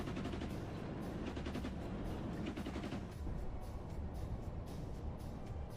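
Dense, continuous gunfire from Ukrainian forces shooting at targets in combat, rapid overlapping shots and bursts sustained throughout at high level.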